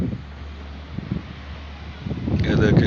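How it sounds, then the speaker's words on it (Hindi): Steady blustery wind roars against the microphone in a village in Karak, with low buffeting gusts that grow stronger toward the end. "आज हमारे गांव में बहुत तेज़ हवाएं चल रही है"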